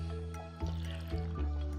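Watering crops in the Stardew Valley farming game: a few short splashy watering-can sprinkles land over steady background game music, with no talking.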